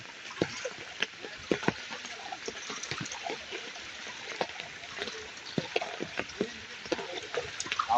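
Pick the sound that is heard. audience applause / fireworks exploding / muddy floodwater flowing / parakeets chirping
muddy floodwater flowing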